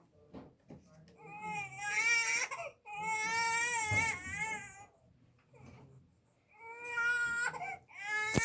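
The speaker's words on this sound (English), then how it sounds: "As the baby grew stronger, he cried louder." An infant wails loudly in three long bursts, with brief gasping pauses and softer whimpers between cries, close and intense.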